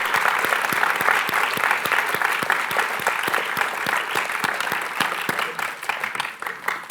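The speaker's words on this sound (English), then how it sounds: "can I get a round of applause for this fantastic panel of speakers?" Audience applause for a panel of speakers at the close of a history speaker-series event, steady dense clapping sustained for several seconds, fairly close and alone without talk.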